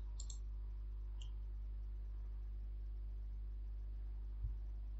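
Computer mouse clicking, a few faint, sharp clicks spaced apart over a steady low hum.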